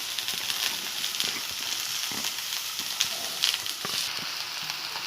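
Onions fry in hot oil in a frying pan on a gas stove, making a constant close sizzle dotted with sharp pops and crackles and the occasional stirring scrape.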